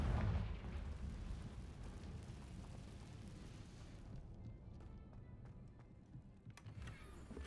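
A Confringo spell blast in Hogwarts Legacy opens with a loud, deep burst, then trails off into a long rumbling decay with a few faint crackles near the end.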